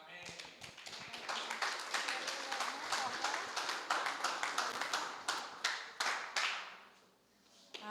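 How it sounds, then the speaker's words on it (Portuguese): A congress audience claps steadily in rhythm, a dense run of sharp hand claps that carries on for several seconds before briefly thinning out, with voices heard faintly beneath. "As palmas estão ótimas."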